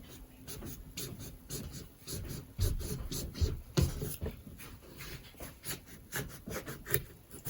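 A sharp knife saws through the top of a pumpkin in a series of close, rasping, scraping strokes with irregular rhythm, fairly quiet, with no speech.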